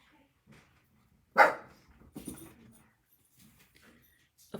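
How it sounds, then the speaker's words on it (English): A dog gives one sharp indoor bark, then a couple of softer follow-up barks and whimpers amid quiet room sounds. "now's the time to bark, apparently"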